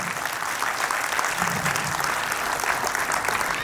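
An audience at a Sunni Muslim community student honour ceremony in Rajkot bursts into loud, dense, sustained applause that carries evenly from start to finish.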